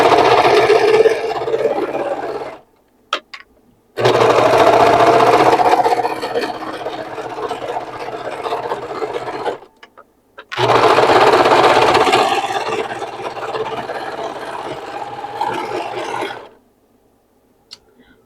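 A sewing machine stitches a collage quilt in three long, loud runs of steady mechanical whirring, close by, with brief silent pauses between them.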